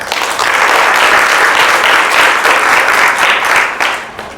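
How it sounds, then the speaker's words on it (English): An audience at an academic paper development session applauds together in a full, steady burst of clapping that lasts about four seconds before starting to thin out. "Let's give them all a round of applause."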